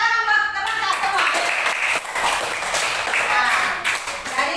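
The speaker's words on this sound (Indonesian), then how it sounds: "tepuk tangan buat teman-teman semua" Classroom applause as students clap for their classmates, a dense burst of many hands with voices mixed in, fading slightly toward the end.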